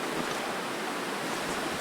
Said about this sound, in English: I can hear the wind outside.